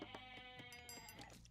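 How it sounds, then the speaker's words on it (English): Goats bleat repeatedly in the Age of Empires video game, several overlapping calls over a steady background of game sounds and music, with no talking. "Lots of goats here."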